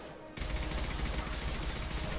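Sustained automatic gunfire in the game Mass Effect 2, starting abruptly after a short quiet moment and continuing as a loud rapid stream of shots.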